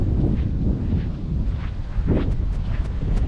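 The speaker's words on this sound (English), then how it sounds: "It is so windy." Strong wind buffets the microphone outdoors along Route 66 in Kansas, a loud, continuous rumbling roar with a few sharper gusts near the end and no voices.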